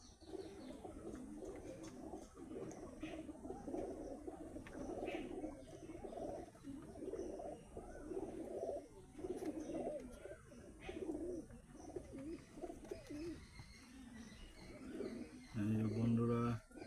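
In a loft of high-quality pigeons, many of them molting, including Shahjahanpuri and Saharanpuri birds, overlapping coos rise and fall in a rhythmic, continuous murmur at moderate volume, with a louder swell near the end.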